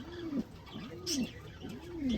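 Pigeons coo close by in soft repeated rising-and-falling calls, three phrases in a row, with a brief faint click between them.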